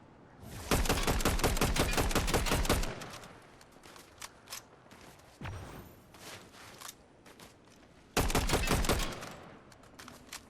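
Rapid automatic gunfire in Fortnite Zero Build: two long, loud bursts of evenly spaced shots at the start and end, with scattered single shots and distant pops in between.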